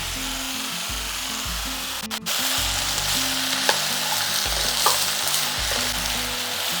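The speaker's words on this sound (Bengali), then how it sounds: "লাউটাকে একটু হাই ফ্লেমে রেখে ভাজা ভাজা করে নেব, মানে একটু নাড়াচাড়া করে নেব" Bottle gourd stir-fried over a high flame sizzles in a steady, dense hiss, with the scrape and clatter of stirring breaking through now and then, and a low tonal hum running underneath.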